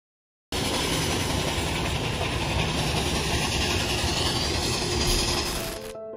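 A coal-fueled locomotive train running on rails makes a loud, continuous roar and rumble with rail clatter, beginning abruptly and fading slightly at the end.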